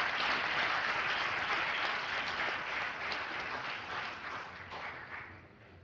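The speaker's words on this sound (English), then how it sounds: "Give a round of applause for these people." Audience applause at a council presentation, a moderate wash of clapping that starts full and gradually fades out toward the end.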